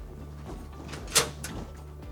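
A key machine door opens at a car dealership, a single short mechanical click and slide standing out once against a quiet low electrical hum, with no one talking.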